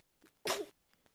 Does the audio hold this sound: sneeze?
yes